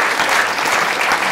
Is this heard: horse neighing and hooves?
no